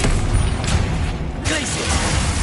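A Bombarda blast spell goes off in Hogwarts Legacy, a sudden booming burst that follows an earlier thump amid game noise, with a voice speaking over the action.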